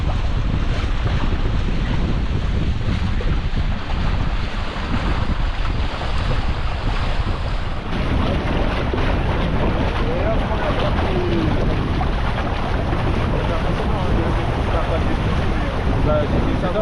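Strong wind gusts buffet a sailing catamaran out on the sea, a loud continuous roar of wind on the microphone over rushing water and waves, without let-up for the whole stretch.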